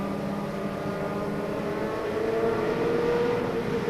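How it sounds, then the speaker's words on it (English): Pro stock race cars roar around Monadnock Speedway in 1993, a continuous loud blended engine drone that rises in pitch as they rev harder, with no voices. "Now they start to get those RPMs up and run a little bit harder"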